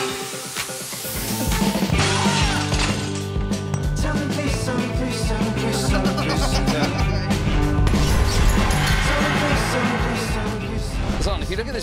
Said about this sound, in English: if you look at this broken glass